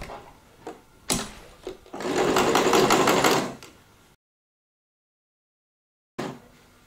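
A sewing machine runs a half-inch stitch along the side seam of a denim handbag made from recycled jeans, whirring steadily for about two seconds after a few short taps, then stopping into silence.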